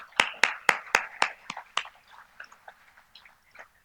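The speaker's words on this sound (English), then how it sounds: "A round of applause, please." At an award ceremony for a stock exchange's 50th anniversary, several loud, crisp claps come in a quick even rhythm, then thin out into scattered, fainter claps that fade away.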